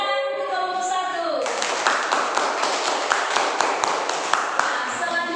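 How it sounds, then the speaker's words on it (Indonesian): Applause for the first discussion group in a classroom or meeting, a dense burst of clapping from many hands that starts suddenly and carries on steadily, with a few sharper individual claps standing out near and loud. "Tepuk tangan untuk kelompok 1."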